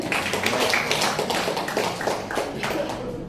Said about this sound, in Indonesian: Berikan tepuk tangan untuk Kak Nendi sekali lagi.